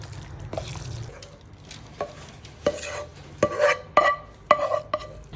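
A spoon scrapes and clinks against a bowl in irregular strokes, a thick leek mixture being stirred up close with sharp tapping hits.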